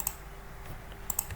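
Keys on a computer keyboard are tapped during spreadsheet work, making a few faint, quick clicks in a quiet room with no talking.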